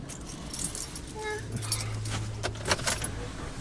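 A bunch of keys jangles in bright metallic bursts, close and fairly loud, inside a car with a low engine hum and a brief dog whimper.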